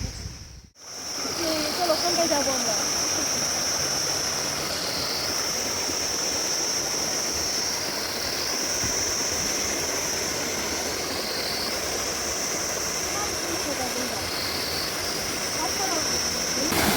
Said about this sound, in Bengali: ছোট্ট পাহাড়ি ঝর্ণা এখানে